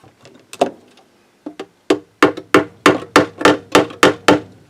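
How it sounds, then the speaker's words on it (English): Pliers used as a makeshift hammer tap on a Philco Butterfly radio, a run of sharp, close metallic knocks that start sparse and then settle into a steady rhythm of about a dozen strikes. "Pliers, the alternative hammer."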